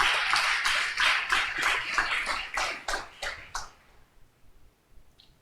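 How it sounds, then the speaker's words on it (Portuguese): A church congregation claps in steady, rhythmic unison for a few seconds during a sermon, then the clapping stops abruptly, leaving near silence. "Aplauda Jesus se você é crente."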